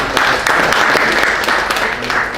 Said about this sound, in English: Give one last applause again